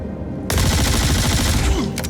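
Sustained burst of automatic P4 rifle fire in the Star Citizen video game, loud and close, a rapid continuous rattle of shots lasting about a second and a half after a brief quieter lead-in.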